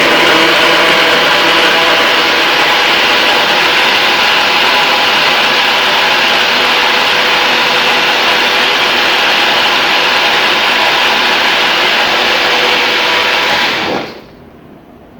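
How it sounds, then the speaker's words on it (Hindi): A kitchen blender whirs loud and close, blending melon slush in one steady, continuous roar for about fourteen seconds before cutting off abruptly into silence. "अब हम इसको ब्लेंड कर लेंगे।"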